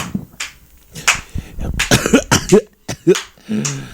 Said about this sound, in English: I just choked on myself